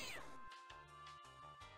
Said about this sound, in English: Oh, that little kitty.